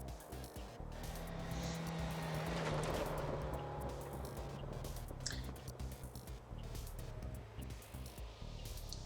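A rally car drifting through a turn in the video game Dirt Rally, engine revving and droning steadily with gear shifts and gravel noise, quiet and continuous throughout.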